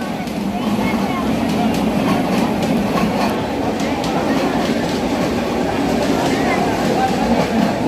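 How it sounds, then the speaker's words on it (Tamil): Two trains cross each other beside a passenger train at a station, giving a steady loud rumble with rhythmic wheel clatter throughout, with voices talking underneath. "ஏன்னா 2 ட்ரெயின் பக்கத்துல கிராஸ் ஆகுது"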